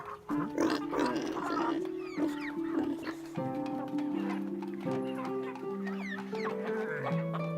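Chickens cluck and crow on a small farm that also keeps pigs and a pony, several birds calling in overlapping bursts close by with steady background commotion throughout.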